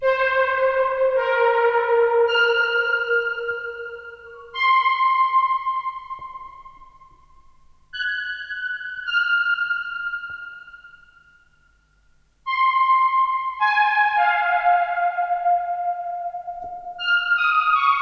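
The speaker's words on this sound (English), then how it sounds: "it's also a very nice synthy thin texture" A thin, airy synth from the Micro X plays sparse sustained notes in loose phrases, each tail washing out in long reverb before the next swell. No voices.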